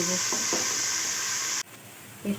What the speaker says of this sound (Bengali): পেঁয়াজ কুচি পেঁয়াজটা একটু ভেজে